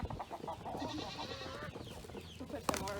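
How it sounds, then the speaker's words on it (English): A rooster crows among hens feeding on a farm in the morning, a short, fairly close call over a busy background of clucking and farmyard murmur. "We have two roosters. They're very noisy. They crow a lot."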